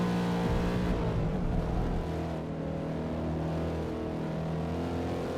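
A Mustang's engine in Forza Motorsport drones under load, a loud, close, sustained harmonic roar that shifts pitch slightly as revs change, with no talk over it.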